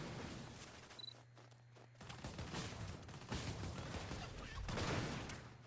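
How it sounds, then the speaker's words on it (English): Rapid blaster fire in Borderlands 2, bursts of crackling shots with explosive impacts that run almost continuously and swell in the final seconds, loud and dense with game effects. "it's a lot of fun using this blaster. You can really see the damage it can create. It's like having a mini rocket launcher"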